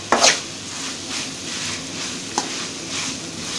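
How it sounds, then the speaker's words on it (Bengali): Cauliflower singara filling with red chilli powder fries in a pan, a continuous sizzle close up with a loud utensil clatter at the start and another stirring knock partway through. "এটাকে ভাজা ভাজা করবো আমি এখন"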